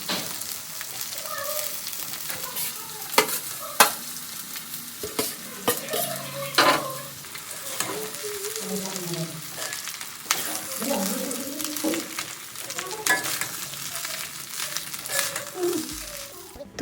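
Vegetables fry in a pan for fried rice, with continuous sizzling broken by repeated scraping stirs of a utensil against the metal at an uneven rhythm.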